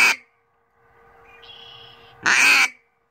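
A Hobo duck call is blown in two loud, raspy quack bursts at the start and end, with a quieter, steady tonal hum between them and no one talking.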